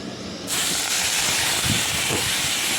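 Shrimp drop into hot oil in a wok, and a sudden loud, close sizzle bursts in and holds as a thick, continuous hiss with faint crackles. No one speaks.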